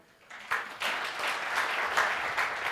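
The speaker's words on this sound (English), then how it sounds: "So I think a big round of applause for Mike." Applause from an audience rises quickly and continues steadily, a broad wash of many hands clapping together.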